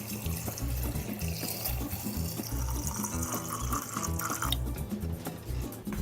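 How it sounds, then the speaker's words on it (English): Salt brine poured into a jar for beet kvass, a steady splashing liquid stream that runs for about six seconds with small clinks, close and fairly loud. "I'm going to pour the salt brine into"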